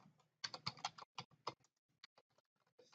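A folder name is typed on a computer keyboard in a quiet room, with close, quick bursts of key clicks, short pauses between them and a few scattered single taps.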